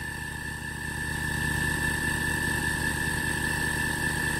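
Steady, even hum of an Emco Unimat 3 lathe, upgraded with a 550W servo motor, with its spindle spinning at top speed; a close, continuous drone with a faint whine over it, rising slightly at the start, with no talking.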